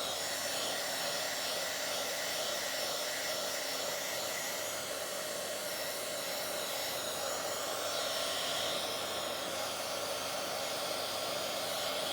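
A hair dryer blows continuously on drying paint on a journal page, a steady airy whoosh with a constant motor whine and no change in level, no voices.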